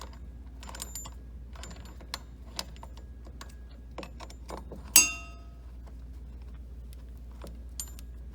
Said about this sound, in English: we're going to go ahead and finish removing the bolts that we broke loose. Again, need a number 5 Allen key.